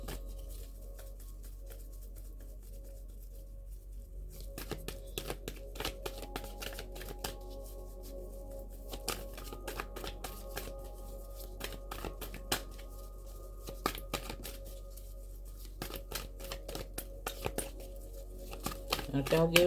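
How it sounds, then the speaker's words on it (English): Tarot cards being shuffled and handled, a steady run of soft riffling flicks and taps that builds slightly toward the end, close and fairly quiet against a faint background hum. "I said I was going to take a couple of cards out."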